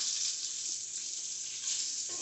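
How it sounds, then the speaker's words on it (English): Meat sizzles steadily in a hot pan, a bright continuous hiss with faint scraping as it is stirred, close and unbroken with no talk. "Stir this meat up a little bit."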